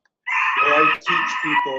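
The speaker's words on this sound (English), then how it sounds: "I think there's a rooster in the background." A rooster crows nearby in one loud, drawn-out call with a brief break in the middle, heard over a person's talking on an online meeting.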